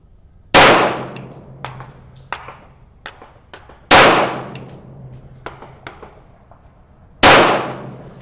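Pistol shots ring out at a 25-yard shooting range during timed fire: three loud, sharp reports spaced about three seconds apart, each with a ringing decay. Fainter distant shots and clicks fall in between.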